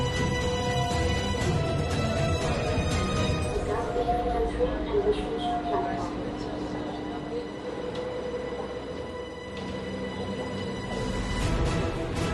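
Steady rumble and rolling hum of a tram moving through Dubai, heard from inside the carriage, continuous and fairly loud with faint voices in the background.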